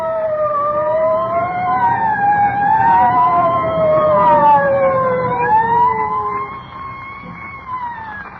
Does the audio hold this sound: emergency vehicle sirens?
yes